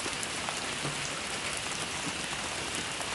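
Steady rain falls on a surface, a dense even patter of drops with no pauses or voices, uniform in loudness from start to finish.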